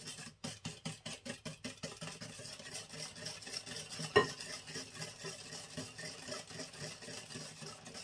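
A spoon slowly stirs cocoa and starch into cold milk in a pot, a soft rhythmic scraping that starts with distinct regular strokes and blurs into quieter continuous swirling, with one brief clink midway.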